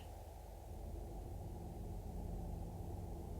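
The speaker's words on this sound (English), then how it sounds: "All I can hear is my engine." Submarine engine running in Silent Hunter 4, a continuous low rumbling drone at steady level with a hiss on top, alone with no voices.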